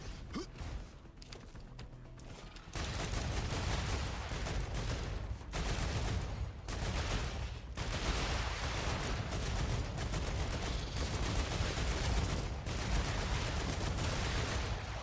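Gunfire in the video game Star Rupture: after a quiet start, a dense, loud stream of rapid shots and mechanical clatter runs almost continuously, broken by a few short pauses.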